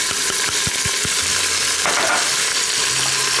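Half an onion dropping into crisped bacon in a hot Instant Pot, loud continuous sizzling and frying with a few light stirring taps near the start.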